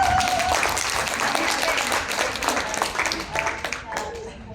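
Applause from participants in a leadership class at an office headquarters: steady, fairly loud clapping across the room, with a few voices talking over it.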